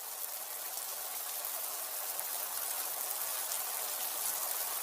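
Rain falls steadily in a cartoon story scene, a continuous even hiss of drops with no voices.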